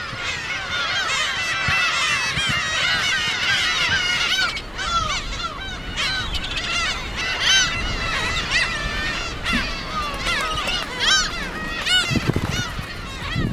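Young seagulls on a steep sea cliff of Gyeokryeolbiyeoldo island in Korea's West Sea: a dense, loud, continuous chorus of many overlapping harsh, honking calls from a colony nearby.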